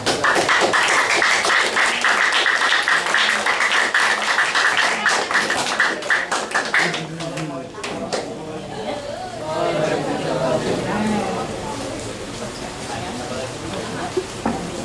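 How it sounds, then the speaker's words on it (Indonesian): Applause from a seminar audience honoring participants from the education group at a research dissemination session, dense and loud for about seven seconds before fading into chatter and a voice speaking. "Tepuk tangan saya lagi buat teman-teman dari pendidikan."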